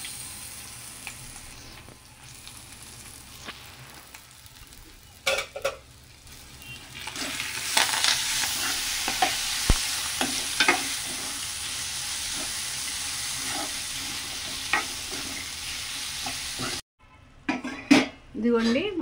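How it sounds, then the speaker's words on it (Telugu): Grated raw mango fries in a pan with curry leaves for mango rice, a sizzle that grows louder midway, punctuated by clinks and scrapes of a spoon stirring against the pan, with brief talking near the end. "ఇప్పుడు ముందుగా తురుము పెట్టుకున్న పచ్చి మామిడికాయ తురుము అయితే వేస్తున్నాను."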